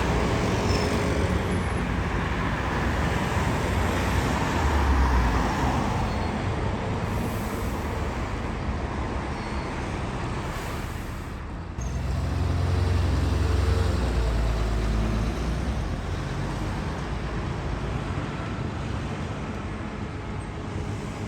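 Road traffic passes on Harts Lane at Barking, London, as a route 368 bus enters the estate, a continuous roar of engine and tyre noise with a heavier low engine swell around midway, no voices.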